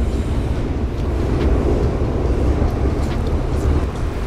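A train rumbles along the railway overhead, heard from beneath the tracks as a steady, loud, low roar with faint clanks throughout and no talk.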